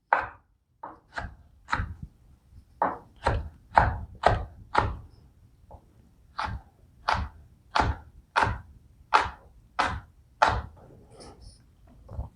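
A knife chops pineapple and other ingredients for pico de gallo on a cutting board, giving a steady run of sharp, close thunks in quick bursts with brief pauses, heard alone.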